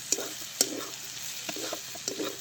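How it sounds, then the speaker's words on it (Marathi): Crushed peanuts stirred into a vegetable dish in a pan, a few sharp spoon scrapes and knocks over a faint sizzle, close and quiet, no talking. "परत एकदा व्यवस्थित मिसळून घेते सगळं"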